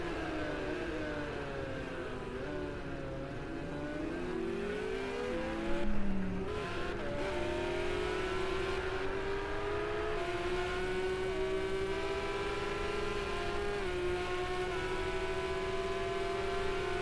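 Aston Martin and Porsche race cars in a racing video game, a continuous engine drone with rising and falling gear-change pitch sweeps, a brief louder burst midway, steady and close throughout.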